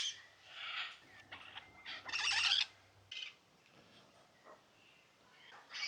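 Caged macaws and Amazon parrots, including rainbow macaws and a white-fronted Amazon, call out in Honduras in a few loud, harsh squawking bursts, with quieter calls and a low hum filling the gaps.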